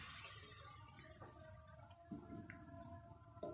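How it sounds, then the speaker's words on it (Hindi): Milk mixed with cornflour pours into a pan, a steady soft liquid trickle heard alone with a few light clinks, fairly close and quiet. "दूध में मैंने कॉर्नफ्लोर मिला के अच्छे से मिक्स कर लिया है। अब हम इसमें डालेंगे"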